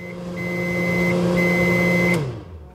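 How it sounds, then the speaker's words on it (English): A kitchen oven timer beeps in short, high electronic tones over a steady humming drone. The hum then winds down and stops, leaving near silence at the end. "Suddenly, the oven timer peeped in the kitchen."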